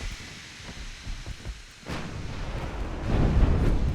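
Naval guns firing in a video game battle against an enemy battleship, a dull booming, rumbling barrage that swells from scattered thuds into a louder, continuous roar.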